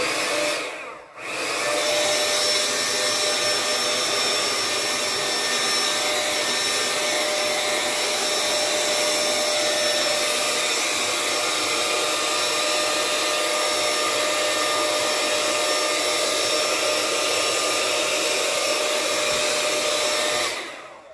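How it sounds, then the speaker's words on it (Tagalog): A Nora Styler 5-in-1 hairstyler blower runs steadily and loudly after a brief click on, a continuous whooshing motor roar with a faint whine that holds for about twenty seconds before cutting off. "Ito na yung blower niya guys."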